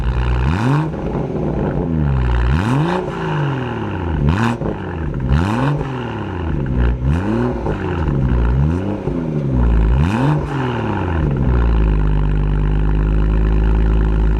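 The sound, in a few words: BMW M240i with Quicksilver valved exhaust, back box bypass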